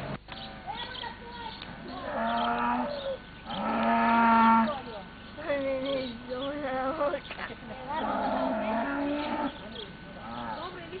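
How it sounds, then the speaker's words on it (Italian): A cow moos repeatedly, with several long, drawn-out calls close by, spaced across the clip, and people talk between and over them. "Così dipende anche il rumore della mucca, no?"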